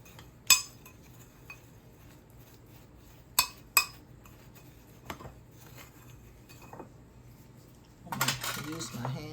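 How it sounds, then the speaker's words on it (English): A spice rub with cinnamon and brown sugar is mixed in a bowl for barbecue ribs: a few sharp, scattered clinks against the bowl in a quiet kitchen, then a burst of busier handling near the end. "I'm going to mix it all together"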